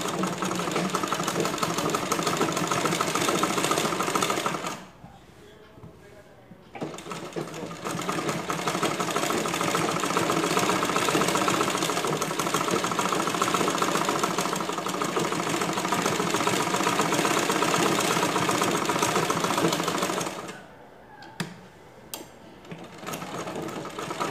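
A domestic sewing machine runs in long steady bursts while stitching a newborn's cloth diaper pad, its fast whirring rattle close and continuous, stopping briefly twice before starting again.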